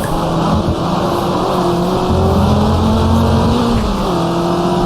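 Race car in GT Legends slides and drifts with heavy oversteer, the engine holding a loud steady drone with small pitch shifts as it slithers through a corner, while a commentator talks.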